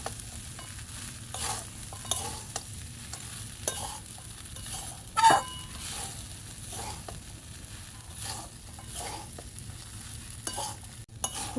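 Flattened rice pulao stirred in a frying pan, a soft steady sizzle beneath repeated scraping strokes of the spatula, quiet and close, with no voices.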